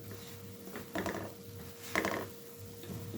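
A spoon or spatula scrapes and clinks against a pan while thick sesame seed halwa is stirred, a few soft scraping strokes that stay quiet over a low steady hum.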